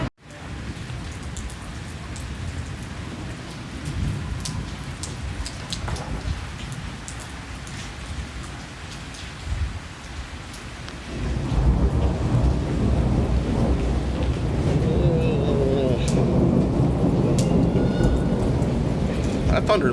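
A low rumble of thunder rolls on through steady rain in Venice, the downpour pattering and hissing close by, then growing heavier and louder partway through as the rumbling continues.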